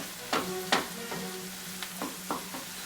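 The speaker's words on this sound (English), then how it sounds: "like to use a lot of onion and fry it" Onions fry in a pan for savory meat patties, a soft steady sizzle broken by a few sharp stirring scrapes spaced through the short stretch.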